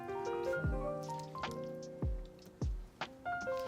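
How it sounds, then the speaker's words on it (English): Blueberry and peach fruit filling spooned onto pastry, a few separate wet squishy plops and drips spaced about half a second apart, close and fairly quiet over soft ringing tones. "Then spoon the fruit filling onto the pastry over the ground almonds."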